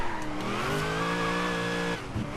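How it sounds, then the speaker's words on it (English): Race car from the video game Forza Horizon 3 roaring at speed on a rainforest sprint course, a loud sustained engine note with steady harmonics, rising slightly then dropping off near the end with a brief tire squeal. "We'll have to push the car quite a bit through the rest of this course to try and go quicker."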